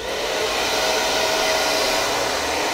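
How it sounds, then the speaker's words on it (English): A pink Salon Professionals hair dryer runs on its low cool setting, giving a steady, unbroken whoosh of blowing air that is close and fairly loud throughout, with no voices. "We're gonna put it on low cool."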